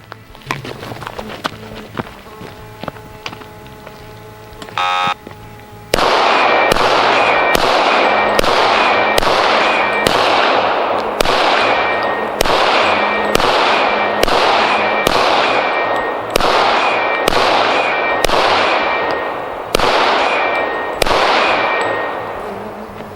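Rapid pistol gunfire emptying a full double-stack magazine at a SHOT Show 2017 target range: about sixteen loud, evenly spaced shots in quick succession, each ringing briefly, following a quieter stretch with a short clink.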